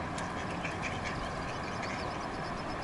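Ducks quacking on a beaver pond, a faint, busy scatter of calls over a wash of outdoor background noise.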